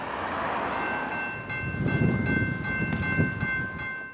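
A CSX freight train approaches on the main line, a steady low rumble of rolling cars building under a sustained high tonal whine, growing louder and nearer over several seconds.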